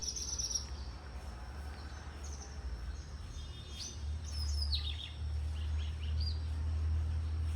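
Birds chirp outdoors in light wind, several high, brief calls rising over a steady background of insect trilling and low wind rumble, with no talking.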